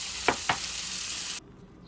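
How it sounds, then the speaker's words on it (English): Pesto and Alfredo sauce warm in a pan with a steady low sizzle, two brief stirring scrapes standing out before the sound cuts off abruptly near the end. "I got the pesto and the Alfredo sauce in the pan, and I'm warming it up"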